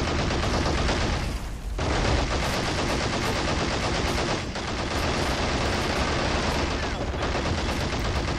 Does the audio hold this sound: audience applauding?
no